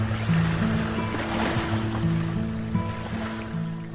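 Sea waves washing near the shore, a steady, rolling surf with broad rushing noise and a low hum beneath it, continuous and moderately loud, with no voices.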